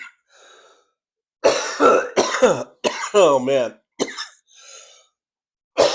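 A man coughs and clears his throat in bursts between short spoken phrases, close to the microphone on a trucker's livestream.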